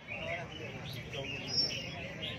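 Caged songbirds at a large ornamental bird market in Vietnam's highlands chirp in faint, scattered tweets under a steady crowd murmur and market bustle.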